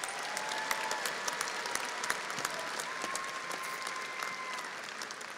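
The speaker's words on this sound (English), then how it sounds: "Let's give these graduates one round of applause," Audience applauding graduates at an Angelo State University fall commencement ceremony, with sustained clapping from a large crowd in a big hall and a few sharper claps standing out, all at an even level.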